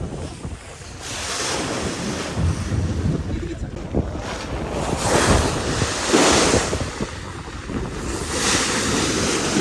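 Rough monsoon waves on the Padma river surge and crash in uneven swells, mixed with strong wind buffeting the microphone and a faint background voice or two.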